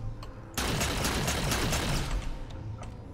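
Rapid sustained gunfire at a grunt in Halo 4, a dense, loud burst of shots lasting about one and a half seconds before it eases off, with faint ticks before and after.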